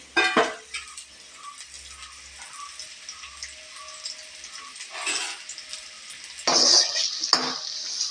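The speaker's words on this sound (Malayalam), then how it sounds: "ഈ വെളിച്ചെണ്ണയ്ക്കകത്തോട്ട് പാവയ്ക്കായും വഴറ്റണം" Bitter gourd being sautéed in coconut oil in a pan: a few sharp stirring clatters and scrapes with bursts of sizzling, close and moderately loud, separated by quieter stretches.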